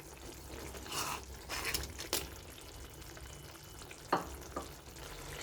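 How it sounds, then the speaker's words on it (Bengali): Fried bori stirred into cooked vegetables in a pan for a hinche shaak shukto, with a soft continuous sizzle and a few scraping stirs and clacks of the spoon, close and moderately quiet. "এইবার বড়ি ভাজাটা মিশিয়ে দেবো।"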